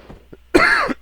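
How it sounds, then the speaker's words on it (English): A single sharp cough lands close into a microphone, loud and abrupt, following a few quieter throat sounds. "Just coughed right in your ear"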